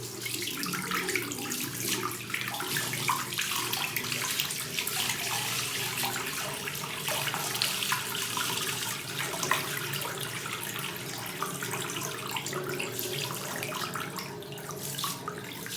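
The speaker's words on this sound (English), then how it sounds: "I'm gonna be pouring the water once again, making sure that there is no any sample wasted." Water pours steadily from a tap onto a soil sample during a permeability test, a continuous splashing, gurgling flow that holds a constant level for the whole stretch with no talking.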